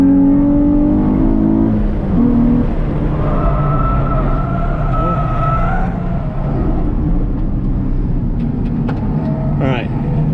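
A modified race car roars loud and continuous on track at Lime Rock during a track day, its engine note shifting as it works through a lap, with a driver talking over it.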